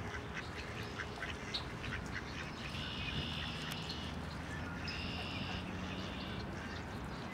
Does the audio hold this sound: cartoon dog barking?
no